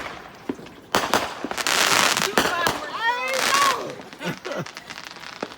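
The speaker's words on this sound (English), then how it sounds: "fireworks shows." Fourth of July fireworks seen from a porch pop and crackle in loud bursts, with whistling rockets rising and fizzing, while people react and talk nearby.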